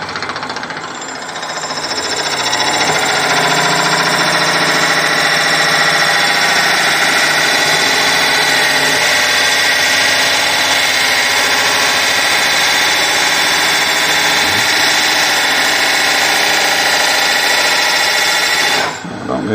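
A power drill bores into wood on a wood-turned candlestick, running steadily and loudly for most of the clip, a continuous grinding whir with a slight rattle, stopping abruptly at the end.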